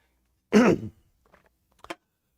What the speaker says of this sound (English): so just clear my throat